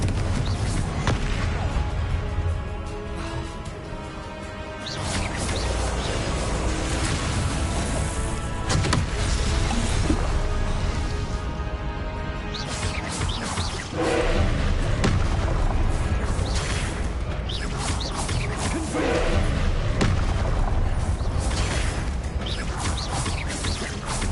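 Confringo blasting spells in Hogwarts Legacy set off a steady barrage of loud booming explosions and crashes, layered over dense continuous game noise with no pauses.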